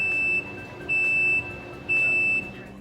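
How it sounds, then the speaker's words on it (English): A Baxter OV500 rotating rack oven signals the end of baking with three steady high-pitched electronic beeps, each about half a second long, evenly spaced about a second apart over quiet background hum. "The oven will beep when the baking cycle is finished."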